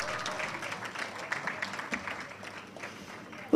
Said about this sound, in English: the applause slowly trickled in